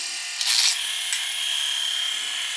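A Philips HQ7140 electric shaver runs close up with a steady high-pitched motor whine, a brief louder click as it is handled near the start, then an even hum throughout.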